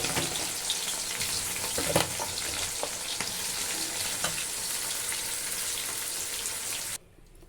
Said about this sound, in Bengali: এইভাবে করে আমি কাঁঠালগুলো ভেজে উঠিয়ে নেবো।